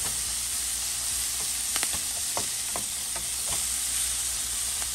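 Rockfish fillets sprinkled with lemon juice pan-sear in hot oil, giving a loud, steady, close sizzle with a few light pops and crackles throughout.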